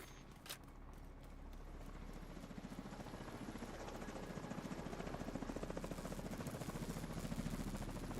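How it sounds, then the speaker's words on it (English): An enemy helicopter in the video game The Division 2 approaching, its rotor thumping in a steady rhythmic pulse that swells gradually louder over a constant low drone. "Enemy helicopter approaching."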